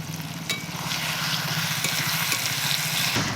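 Chili, garlic and ginger fry in hot oil in a pan for soya chilli, a steady close sizzle with a few light stirring knocks and no talking.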